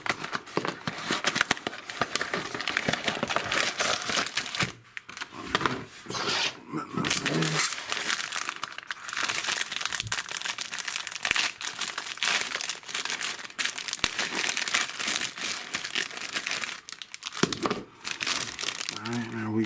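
Packaging for cheap LED strip lights is crinkled and torn open, a dense, loud run of crackling plastic and paper rustles lasting throughout with brief pauses.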